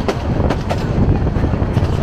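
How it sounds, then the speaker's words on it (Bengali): Steady broadband rumble of a Dhaka–Narayanganj commuter train running toward Pagla station, heard close from on board as a continuous rattling roar with no clear speech. "ট্রেন এখন পাগলার দিকে যাচ্ছে, পাগলা স্টেশন।"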